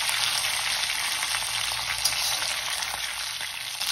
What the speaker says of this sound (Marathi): जिरे छान फ्राय झाले की ह्याच्यामध्ये आपल्याला वांगी घालायची आहे चिरलेली।